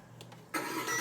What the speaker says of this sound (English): Sounds like it's starting.